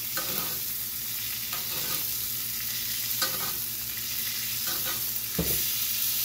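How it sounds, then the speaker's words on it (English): A steak sizzles steadily in a hot pan while it is turned and basted with melted butter, giving a constant close frying hiss broken by brief spoon scrapes and stirring sounds. "So I'm just turning and kind of basting it."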